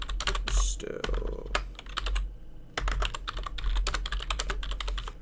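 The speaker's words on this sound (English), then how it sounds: "If the keyboard sounds loud, by the way," Rapid, steady clatter of keys typed on a computer keyboard, close and fairly loud, with a brief pause midway before the typing resumes.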